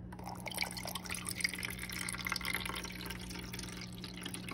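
Spring water poured into a Keurig coffee maker reservoir, a soft steady trickle and splash of liquid filling a plastic tank over a low electrical hum, faint and close.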